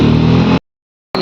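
A motorcycle engine at a service shop runs loud and close in a steady roar, then cuts out abruptly into silence for about half a second before starting up again.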